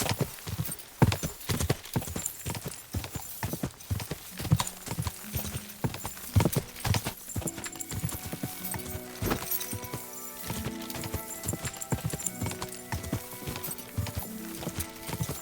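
Horse hooves in Kingdom Come Deliverance 2 clip-clopping in a steady, brisk rhythm throughout, close and clear, with a brief neigh and faint game sounds.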